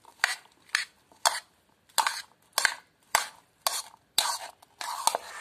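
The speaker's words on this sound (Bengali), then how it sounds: "মশলা সবগুলো উপকরণের গায়ে না লাগে ততক্ষণ পর্যন্ত আমরা মিশিয়ে নেব, ভালো করে মিশিয়ে নেব।" Keto salad mixed with spices and salt in a bowl makes about ten rhythmic scraping, rustling strokes, each distinct and close, with short gaps between them.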